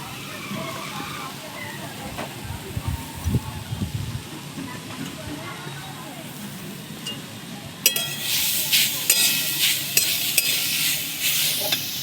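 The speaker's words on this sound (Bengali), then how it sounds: "কড়াইয়ে নারকেলগুলোকে দিয়ে দেবো" Grated coconut stirred in a hot wok, a spoon scraping and shuffling at a steady pace, turning into a bright, louder sizzle about two-thirds through; a voice talks quietly in the background.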